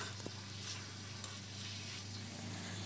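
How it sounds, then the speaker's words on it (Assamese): Chicken pieces sizzle steadily in a pan with fried ginger, garlic and onion, a continuous even crackle with a few faint stirring knocks, fairly quiet and with no talking. "এতিয়া মাংসখিনি দি দিলোঁ মাংসখিনি অকণমান সময় লৰাই লৈছোঁ"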